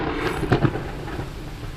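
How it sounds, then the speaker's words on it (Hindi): Thunder rumbles and heavy rain pours during a storm, a dark sky looming overhead, with a couple of sharp, loud thunder cracks over a steady wash of rainfall. "और जोरों से बारिश होने लगी।"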